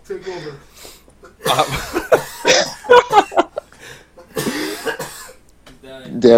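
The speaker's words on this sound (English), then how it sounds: "Every time I laugh the wrong way, dude, my cough comes back." Someone breaks into a coughing fit after laughing, a run of harsh, close bursts mixed with chuckles, with other voices talking in between.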